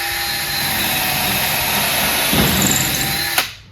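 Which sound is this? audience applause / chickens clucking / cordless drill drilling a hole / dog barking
cordless drill drilling a hole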